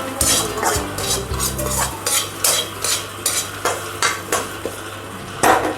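A tadka for sambar is stirred in a pan, with a spoon scraping and clinking against the metal in a steady, repeated rhythm over a soft frying sizzle, close and clear.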